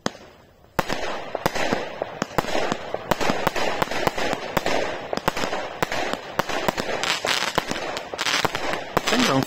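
A 100-shot fireworks cake fired in an open field: a dense, rapid string of loud bangs and crackling pops runs nearly nonstop, close and powerful.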